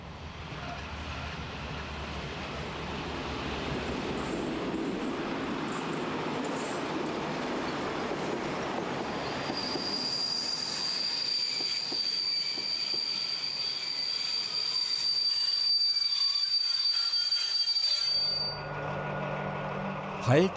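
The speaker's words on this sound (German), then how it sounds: "Anfang der 90er Jahre fahren zwischen Naumburg an der Saale und Artern noch lokbespannte Züge." A locomotive-hauled train runs on the Unstrut railway between Naumburg and Artern, rumbling past with loud, sustained wheel squeal and a rising metallic screech, then the noise fades into quieter tones at the end.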